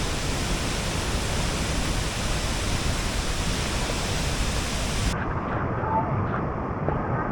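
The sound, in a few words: Tapia waterfall rushing water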